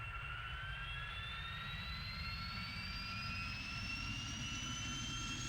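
Twin Rolls-Royce Derwent jet engines spooling up to full throttle for takeoff in the Strike Fighters 2 flight game, a steady loud roar with rising whines climbing in pitch throughout.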